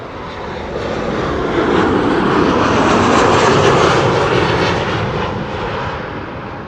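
An airliner lands on runway 06, the Kaagbaan, at Amsterdam Schiphol, its engines building into a loud, broad roar that swells to a peak and then fades as it passes close by.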